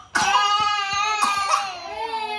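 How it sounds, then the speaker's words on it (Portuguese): A small child coughs, a few short hoarse bursts mixed with whimpering, crying-like voicing, close and loud in a home setting. "Que tosse, hein? A tosse do pai passou pra ti, né?"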